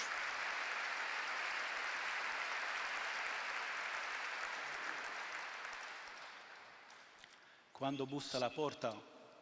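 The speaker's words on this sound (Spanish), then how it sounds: "Y aplausos." A large audience applauds after a talk, broad steady clapping that gradually fades, then a voice begins speaking near the end.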